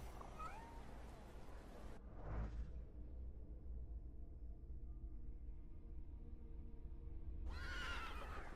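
Neighing and whinnying of a horse in The Thaumaturge video game, a loud burst at the start and another near the end over a steady low background hum.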